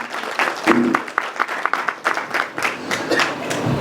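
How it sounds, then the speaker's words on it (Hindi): Applause from the audience at a lecture on Hora Kundli astrology, honouring the event host, with dense claps that keep going throughout, fairly close and loud, while a voice briefly shows through the clapping. "आपके लिए तालियां तो जरूर बनती हैं"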